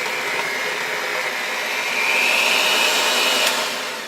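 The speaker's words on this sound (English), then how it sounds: "So just mix this until well combined." An electric hand mixer whirring steadily through chocolate cake batter, a constant loud motor drone that rises slightly in pitch partway through, with no talking.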